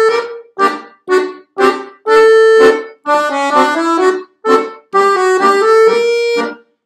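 Accordion playing a tune with both hands together, a short melody of detached opening notes followed by longer sustained chords, close and clear with no talking.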